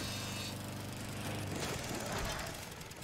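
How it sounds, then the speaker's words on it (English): Lawnmower engine in the Dead Rising video game, a rough, knocking motor drone that chugs steadily and swells slightly toward the end, with no voices over it. "How do I drive a lawnmower?"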